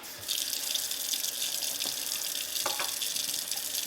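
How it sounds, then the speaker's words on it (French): Water runs steadily from a kitchen sink tap as a rotary cheese grater is being cleaned, a continuous close splashing hiss with a couple of brief clatters near the end. "Alors, on fait couler l'eau."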